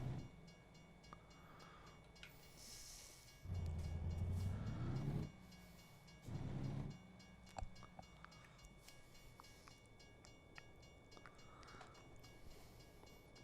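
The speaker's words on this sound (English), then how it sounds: "Oh, I can hear trains." A train passing a road crossing in the American Truck Simulator driving game, heard as a steady rumbling rail roll with two louder surges of passing wagons over a low engine hum.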